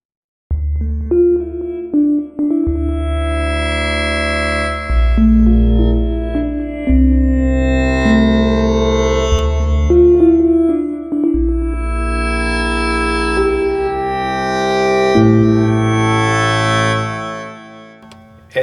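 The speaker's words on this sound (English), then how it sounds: "It has some weird tones. Bell with crazy tones." A synthesizer bell patch in Cubase 10.5 plays a chord progression with odd, wavering tones, its bright ringing notes shifting every few seconds over a sustained low layer, with no talking.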